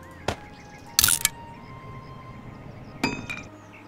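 Breaking down items in the video game 7 Days to Die gives three sharp, clinking, hammer-like impacts at irregular intervals. The middle hit is a brief glassy rattle, all close and crisp over a quiet background hum.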